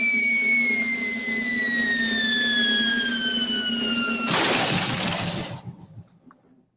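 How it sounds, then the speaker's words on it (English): Bowling ball rolling down a lane with a steady rumble, then crashing into pins in a loud clattering burst that quickly fades away. "this is the sound of bowling."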